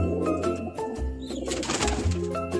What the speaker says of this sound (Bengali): বাবু যাই হোক, এই বাবু কবুতর।